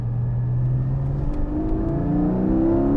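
A Porsche 718 PDK 4.0 six-cylinder engine revs up toward a 7,500 RPM redline, its pitch climbing smoothly as it accelerates, heard close and steady throughout.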